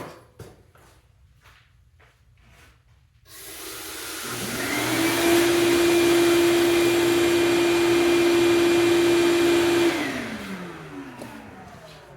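A steady, loud motorized whine, likely a rotary tool or dust blower, starts abruptly and runs evenly for several seconds before winding down while dust is cleaned off a slipjoint knife during modding work.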